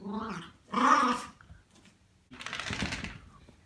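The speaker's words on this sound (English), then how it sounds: "And they enjoy play fighting." Puppies growl and snarl while play fighting, two bursts of rough, throaty growling close to the microphone separated by a brief quieter gap.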